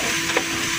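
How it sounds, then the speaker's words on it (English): Sausage frying in a pan during a home breakfast in Hawaii, giving a steady, even sizzle and hiss that holds at one level throughout, close by, with no talk over it. "frying the sausage, add some of the brown."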